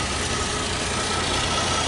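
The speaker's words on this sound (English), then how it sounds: "V6. It is a VVT engine." Chevrolet V6 VVT engine in a front-wheel-drive car idling under the open hood, a steady, close, even rumble with broadband hiss and no voices.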